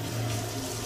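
Water splashing and running steadily while a pet is bathed, a continuous close wash of water with no pauses through the short moment.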